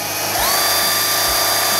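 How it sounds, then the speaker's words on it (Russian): A power drill bores into an apartment wall: the motor spins up into a loud, close, steady high whine that carries on alone for about two seconds. "Сегодня буду сверлить вот тут."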